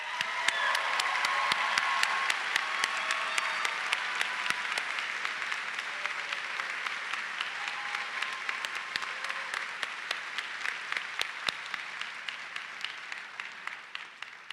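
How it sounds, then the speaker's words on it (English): Sustained audience applause at a Penn State Dickinson Law commencement ceremony in Carlisle, dense steady clapping with a few sharp nearby claps standing out, lasting the whole stretch. "Please rise, and they deserve a round of applause."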